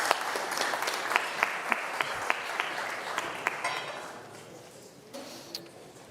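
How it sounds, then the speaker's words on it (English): A crowd claps steadily in a large room, scattered sharp claps over a broad wash of applause that gradually thins and fades toward the end. "A round of applause maybe as they take their seats."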